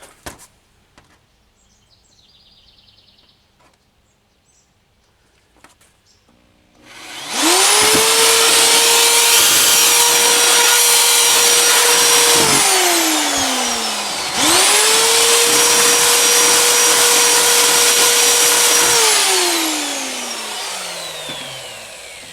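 An electric drill, plugged into an outlet inside the house, bores through a house wall to run ethernet to a workshop: quiet at first, then two long loud whining runs that spin up and wind down, with a short pause between them.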